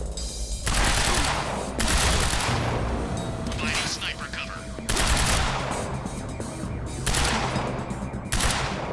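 Rapid machine gun fire in the Quantum Break video game, loud sustained bursts with short pauses, mixed with explosive booms and chaotic combat noise.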